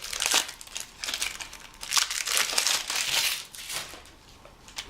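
Cellophane wrapping is peeled off a cheap deck of Liberty playing cards, giving a continuous close-up crinkling and crackling with bursts of louder rustling throughout.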